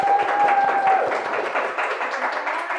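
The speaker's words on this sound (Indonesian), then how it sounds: "Mana kurang semangat itu tepuk tangannya?" Classroom applause from a group of students gives a brisk, dense patter of clapping that stays fairly loud, starting alongside a brief high tone and then easing slightly toward the end.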